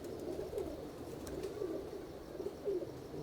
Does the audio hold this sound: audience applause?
no